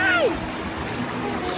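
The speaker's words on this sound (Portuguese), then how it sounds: "eu vim aqui pra cachoeira de Santa Luzia" The Santa Luzia waterfall gives a continuous rushing, splashing hiss of falling water close by, with a brief vocal exclamation at the start.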